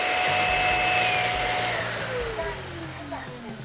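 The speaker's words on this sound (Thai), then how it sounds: "ตัวเครื่องนี้เนี่ยก็จะทำการนะครับเก็บฝุ่น จากหุ่นยนต์ดูดฝุ่นตัวนี้ เข้ามาเก็บอยู่ในถังนี้ให้กับเราโดยอัตโนมัติครับ" Roborock auto empty dock pulling dust out of a robot vacuum into its bin, a loud, steady close suction roar with a whine that slowly drops in pitch as the cycle winds down.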